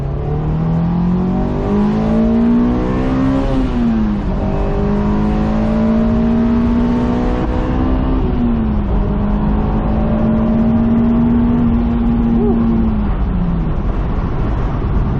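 A 2007 Honda S2000 AP2 pulls hard in second gear, its engine note climbing loud and close with a brief dip at a shift-like pause before rising again over steady road and wind roar.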